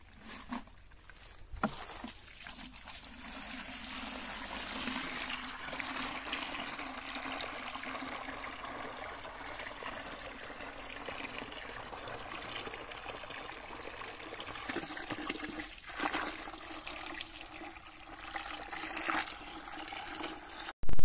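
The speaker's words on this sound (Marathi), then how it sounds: "थोडं पाणी घेऊ आणि एक टोपामध्ये" Water pours steadily into a large cooking pot for boiling turmeric, a continuous splashing rush for a long stretch with a few knocks and clatters along the way.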